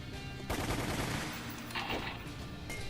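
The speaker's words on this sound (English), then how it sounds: "Grenade launcher." A grenade launcher firing in a Resident Evil video game, with a sudden heavy burst of blasts followed by a rumbling tail and a second, lighter burst.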